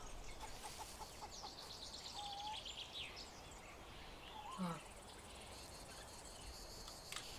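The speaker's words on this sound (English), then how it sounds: "Ooh, chickens." Faint clucking of chickens in the survival video game Survival: Fountain of Youth, a few scattered clucks over a constant background of chirping insects, with no talk.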